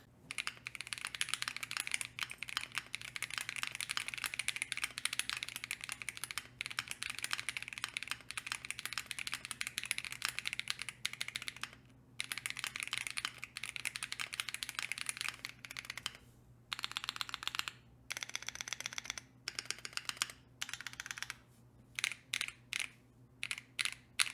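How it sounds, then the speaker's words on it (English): Rapid typing on a Keychron Q2 keyboard fitted with Akko Lavender purple switches and a polycarbonate plate, dense continuous clacking that breaks into shorter bursts and pauses toward the end, close and alone. "To give you guys a sound test of the blue version of the board with those Akko Lavender purples"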